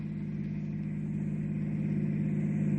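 A hot rod's engine holds a steady, deep, throaty drone that stays loud and close throughout, with no voices over it.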